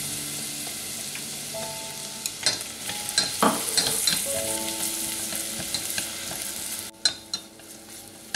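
Onion and garlic fry in butter over low heat, a steady close sizzle with scattered stirring scrapes and a few sharper clinks toward the end.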